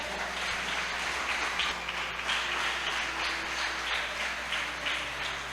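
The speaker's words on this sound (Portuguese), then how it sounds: "Aplauda o Senhor." A church congregation applauds, praising the Lord during a service: a steady, sustained wash of many hands clapping at moderate distance, with no voices standing out.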